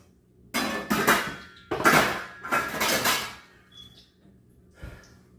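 A metal frying pan cover is handled in a home kitchen, giving several loud clattering knocks and rattles in quick bursts, then a few faint taps and one last clink.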